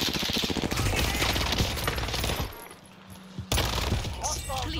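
Rapid gunfire bursts in the Warzone battle royale game, dense automatic shots loud and close for a couple of seconds, then a lull before more firing resumes; game voices murmur underneath.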